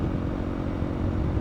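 A Honda CRF300L motorcycle engine drones steadily while being ridden, a close, continuous low rumble with wind noise and no break in the sound.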